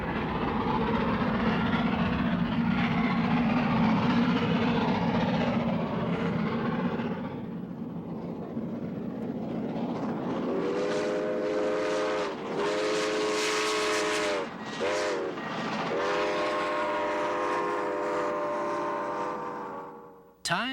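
A steam train rumbles and clatters along the track with a steady, rolling roar, shifting to a rhythmic mechanical jingle and squeal partway through.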